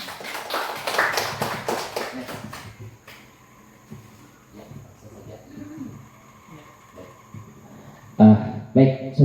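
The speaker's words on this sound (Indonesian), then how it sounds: "Tepuk tangan buat kita semua." A group of teachers claps hands in a room, a brief burst of rapid applause at the start, then quiet murmuring and scattered sounds, and a few louder taps near the end.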